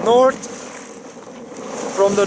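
Wind blows steadily at sea aboard a sailboat near Mallorca, a loud, close whooshing rush across the microphone, with a person speaking over it at the start and end.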